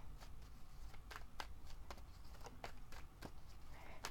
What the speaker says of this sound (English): Typically don't shuffle on camera. I decided to do so this month.